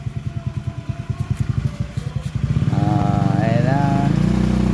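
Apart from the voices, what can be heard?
motorcycle engine running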